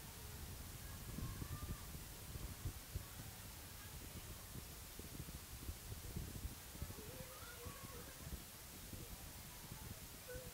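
Steady, roaring wind buffeting the microphone in a press box at a women's soccer game near Joliet, a constant rumble with gusty bursts throughout.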